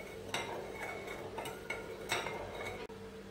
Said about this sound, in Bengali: নাড়িয়ে নিতে হবে